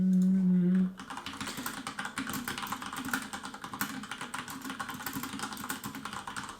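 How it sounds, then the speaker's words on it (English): Fast, steady typing on a computer keyboard, dense clattering keystrokes filling the clip at close range after a brief tonal sound at the start. "Sorry for all the typing here"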